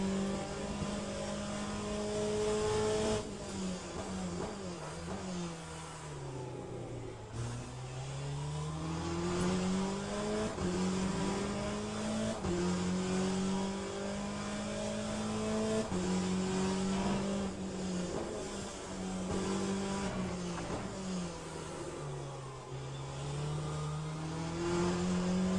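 Race car engines in the Le Mans Ultimate racing game, lapping Portimao online, rise and fall steadily through gear changes, with a continuous loud in-car drone and no voices.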